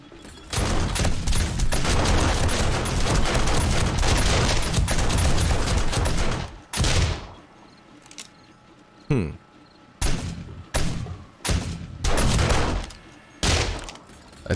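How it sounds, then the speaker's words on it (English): SMG turrets blaze away during a horde night in 7 Days To Die, a dense roaring stream of automatic fire for about six seconds, then several short separate bursts with gaps between them. "SMG turrets are going downtown over there."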